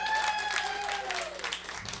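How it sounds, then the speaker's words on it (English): A short burst of applause from a small crowd, with a tonal ringing sound and voices mixed in underneath. "Winners, give yourselves a big round of applause."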